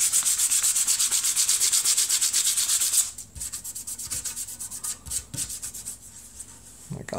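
Keyboard part sanded by hand with fine 1500-grit sandpaper, a close, steady rapid rubbing that shifts to lighter, quieter strokes halfway through; no talking.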